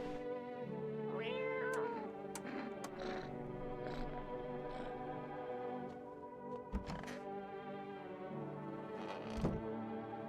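A cat meows in the video game No, I'm not a Human: one clear rising meow near the start, followed by quieter cat calls over a low, steady game soundscape.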